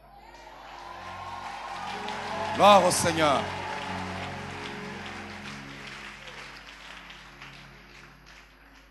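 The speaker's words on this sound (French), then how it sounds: "je vois ces acclamations de joie" Church congregation cheering and applauding during a sermon, a swell of crowd noise that peaks briefly while a voice calls out over it and then fades.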